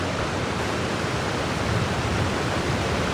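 A Genshin Impact waterfall roars as a constant, dense rush of water, loud and unbroken, with no voices.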